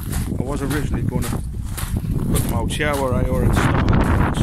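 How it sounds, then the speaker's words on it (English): Gusty wind buffets the microphone in low, rumbling bursts while someone talks over it. "I apologise for the wind"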